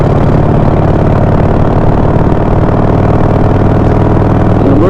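Harley Sportster motorcycle engine running steadily in fourth gear on a road ride, a loud, continuous low rumble with a throbbing exhaust note that holds constant throughout.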